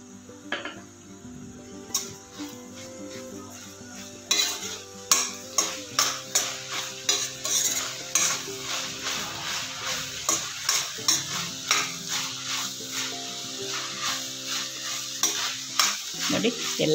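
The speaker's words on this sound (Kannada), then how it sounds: "ಎಲ್ಲ ತರಕಾರಿಗಳೆಲ್ಲ ಲೈಟಾಗಿ ರೋಸ್ಟ್ ಆದರೆ ಚೆನ್ನಾಗಿರ್ತದೆ" Vegetables roasting in a pan for vermicelli upma, a low sizzle under a long run of rhythmic spoon scrapes and clinks against the pan, close and steady, with a few sharper knocks near the start.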